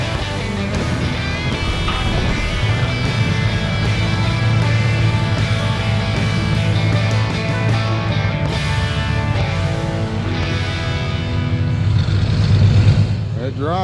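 A 1976 Ford F-350 truck driving, a continuous low engine rumble that holds steady and swells near the end, with people talking over it.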